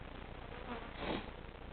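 Honeybees buzzing around an opened overwintered top bar hive during an inspection, a steady close hum that briefly swells louder as a bee passes near.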